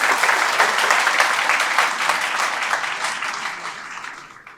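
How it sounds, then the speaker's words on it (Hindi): An audience at a talk applauds for a speaker, with dense, sustained clapping throughout that slowly tapers off at the close. "KC सरोज सर के लिए मौजूदा तालियां।"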